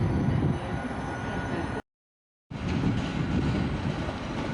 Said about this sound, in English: There's another Stadler Flirt